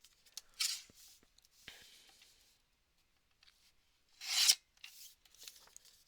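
Something being cut down again by hand, heard as close, quiet, scratchy rasping strokes in short bursts, with two louder scrapes separated by a pause.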